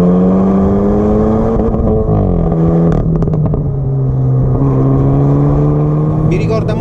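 A Hyundai i30N hot hatch accelerates on wet asphalt, its engine note climbing steadily through the revs, dipping at a gearchange, then rising again, loud and close from inside the cabin as someone talks over it.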